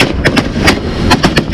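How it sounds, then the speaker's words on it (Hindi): Israeli Navy gunfire off the Gaza coast, a rapid series of sharp loud reports in an uneven burst, about eight shots over a rumbling background. "ये फायरिंग जो आप सुन रहे हैं"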